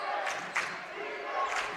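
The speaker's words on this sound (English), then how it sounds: "Crowd getting into it here at Geiseman." Basketball crowd in a gym cheering, a broad, sustained roar of many voices with a few brief louder swells rising out of it.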